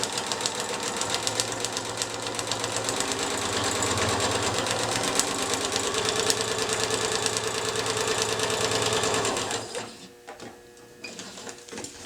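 Domestic sewing machine running steadily as it stitches a paper-pieced quilt block, a continuous close mechanical whir for about ten seconds before stopping, followed by a few faint handling sounds.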